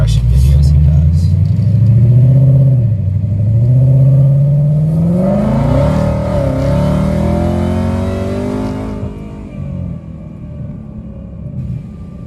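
A Ford Mustang Dark Horse accelerates in a straight line, a loud rumbling engine rising and shifting through gears before the roar fades out, with a voice talking over it.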